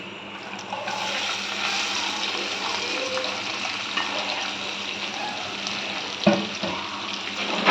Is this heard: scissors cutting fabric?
no